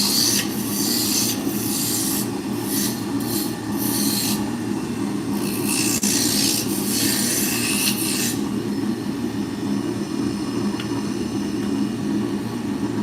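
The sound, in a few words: roughing gouge turning wood on a lathe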